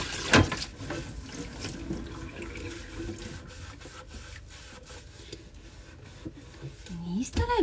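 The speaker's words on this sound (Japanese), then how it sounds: "まず洗い物から成し遂げていく" Dishes are washed at a kitchen sink, with steady running water and soft rubbing and clinking throughout, close and continuous, under faint background noise.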